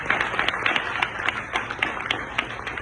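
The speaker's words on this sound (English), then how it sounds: "give them a round of applause for coming in." Audience at a congressman's community event applauds senior center members, a steady wash of many hands clapping at moderate distance with no voices over it.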